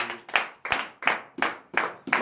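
A congregation claps in acclamation to the Lord at a morning prayer service in Benin: six sharp, evenly spaced bursts of hand claps in unison, each decaying quickly, loud and close.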